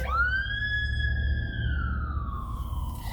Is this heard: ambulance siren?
yes